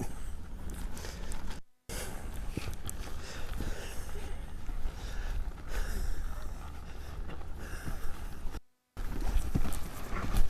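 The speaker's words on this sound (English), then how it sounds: "There's the lope I'm talking about." A horse lopes at a horsemanship clinic, its hoofbeats landing in a steady three-beat rhythm, fairly close and continuous, with two brief dropouts of all sound.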